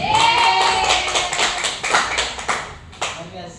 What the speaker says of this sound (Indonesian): Tepuk tangan untuk teman kita Farel.